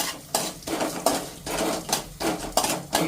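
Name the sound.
garlic cloves dropped into a pan for tomato chutney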